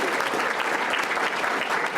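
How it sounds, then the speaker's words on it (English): A seated audience at a public forum on social services in Illinois gives sustained, steady applause for a disability rights leader, a dense wash of many hands clapping evenly throughout. "Give her a round of applause."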